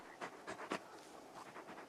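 The dog Torgal panting in the video game Final Fantasy 16, a faint run of quick, breathy puffs in a loose rhythm, close but quiet.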